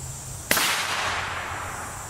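A single sharp M80 A1 rifle round cracks against an aluminum oxide armor plate at an outdoor range, one loud close report with a long ringing decay over steady background noise.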